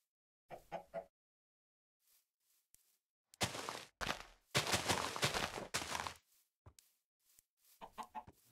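Minecraft chickens cluck in short bursts, with sparse clucks early on, then a louder dense run of sound in the middle and quick choppy clucks again at the end, separated by silent gaps.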